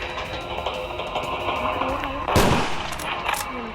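Gunfire aimed at zombies in the Dead Rails video game, a dense burst of shots with a sharp volley near the middle, running over steady game background noise.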